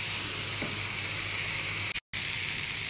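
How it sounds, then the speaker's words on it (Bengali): Masoor dal lentils fry in a spice masala, giving a dense, loud, continuous sizzle and hiss close up, broken only by a split-second cut near the end, with no voices. "এই মশলাটার মধ্যে ডালটা আমি প্রায় দেড় থেকে দু মিনিটের মতো ফ্রাই করব।"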